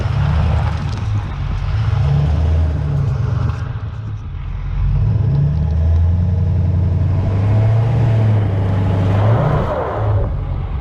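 A Ford F450 dually truck fitted with super single tires drives off-road, its engine rumbling low and loud with rising and falling revs as it accelerates over rough ground.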